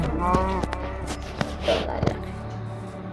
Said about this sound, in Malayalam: പശു